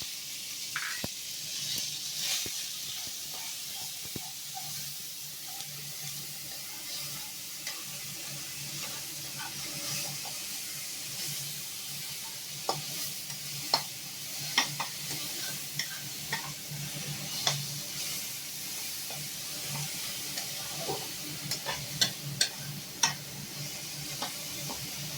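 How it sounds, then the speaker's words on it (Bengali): Onion paste sizzles steadily in a modest amount of hot oil for a home-style doi katla fish dish, with spoon scrapes and stirring ticks scattered throughout, close and continuous, no talking. "এবারে আমি সরাসরি পেঁয়াজ বাটাটা দিয়ে দেবো"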